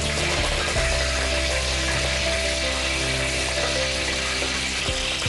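Curry leaves and fenugreek seeds sizzle in hot oil with a steady, loud, hissing crackle that holds without a break, with faint clinks of a utensil in the pan.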